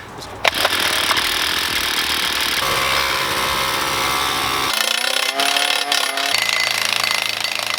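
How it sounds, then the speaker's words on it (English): Loud, continuous mechanical pounding and engine roar from a post driver driving posts for a high tunnel greenhouse, close by and steady throughout, with no voices. "they've got a post driver down at the other end, so we're driving posts down the ends"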